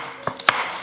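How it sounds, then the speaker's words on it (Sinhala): A knife chops green chillies finely on a board for Sri Lankan tomato sambol, three quick, close, crisp strikes in under a second. "ඒ වගේ හැම දෙයක්ම පොඩි කපා ගන්න ඕනේ හීනියට"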